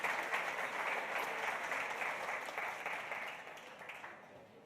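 Conference audience at a technology and financial inclusion event applauds a speaker being introduced, a dense even patter of many hands that holds steady and then gradually fades toward the end.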